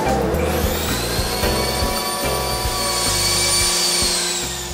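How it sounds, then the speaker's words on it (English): A Hoffmann PU2-TL tilt-head dovetail routing machine cuts dovetail keyways into a wooden panel, a loud, steady high-pitched router whine with a deep motor hum underneath, running unbroken and close by. "Now I take my panel, place it on the machine, and route my dovetail keyways."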